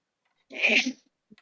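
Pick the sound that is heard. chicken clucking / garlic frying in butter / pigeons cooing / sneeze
sneeze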